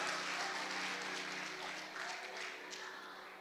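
A church congregation applauds during a Sunday sermon, with faint, fairly distant clapping spread across the room as a steady wash under a low electrical hum.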